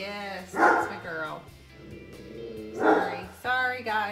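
A dog indoors barks and yips in a few loud bursts with whimpering between them, while a person talks over it nearby.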